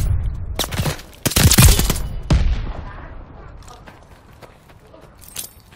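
A stun grenade and gunfire in Call of Duty: Vanguard, with loud close bursts of shots and a sharp blast in the first two and a half seconds, then a decaying ring and faint scattered sounds.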